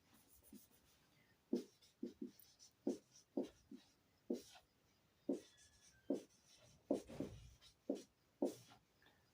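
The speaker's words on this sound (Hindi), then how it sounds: "तो हम इस पर लिख सकते हैं" Writing on a board during a class 10 physics lesson, heard as a series of faint, separate scratchy strokes in an uneven rhythm with short pauses, close by in a quiet room.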